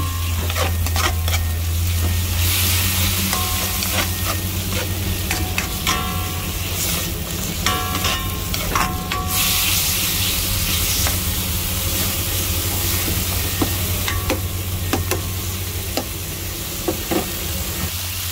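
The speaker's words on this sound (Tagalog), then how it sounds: "Gisa-gisa natin hanggang sa may brownness at maluto na." Bitter gourd (ampalaya) frying with ground meat in a pan, giving a loud, continuous close sizzle with scattered stirring clatter throughout, no talking.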